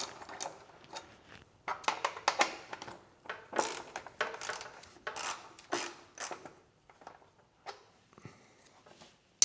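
Ratchet loosening radiator bolts on a Honda CB500X motorcycle, rapid clicking bursts repeating in short uneven strokes, close but fairly quiet, with brief pauses between strokes.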